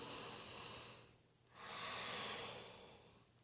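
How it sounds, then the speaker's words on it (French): A slow, deep breath is drawn and released during chair yoga, close and soft, with an airy inhale, a short pause, then a long exhale. "Encore une profonde respiration."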